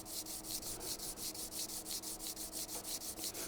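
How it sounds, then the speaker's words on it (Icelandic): A hand tool blade is ground smooth on a sharpening stone, a steady back-and-forth rasping scrape repeating about every fifth of a second, close and continuous with no talking. "ég slípa hana þangað til hún er orðin allstaðar jafn rispuð"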